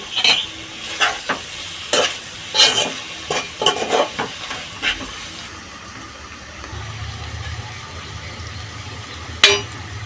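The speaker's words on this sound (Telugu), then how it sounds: "అలాగే రెండు పచ్చిమిర్చి పోసేసానండి" Two green chillies hit a hot pan for a cucumber and potato curry. Several sharp clattering stirs and knocks come first, then a steady, softer sizzle, with one more loud clack near the end.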